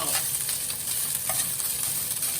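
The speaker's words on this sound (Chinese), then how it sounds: "然后慢慢的中小火翻炒" Ketchup fried rice is stir-fried in a pan over medium-low heat, a dense steady sizzle with soft scraping and stirring sounds, close and continuous with no speech.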